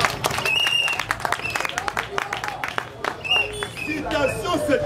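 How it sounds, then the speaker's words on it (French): An audience claps and cheers in a sustained burst of applause, with sharp hand claps rising and falling over crowd noise and voices calling out throughout. "Acclamez vous."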